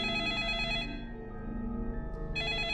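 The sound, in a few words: telephone ringing in the video game 428: Shibuya Scramble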